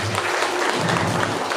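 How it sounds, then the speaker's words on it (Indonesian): Dense crowd applause at a village head election campaign speech in Indonesia, a steady wash of many hands clapping for the whole moment with no voice on top. "Tepuk tangan lah, semangat."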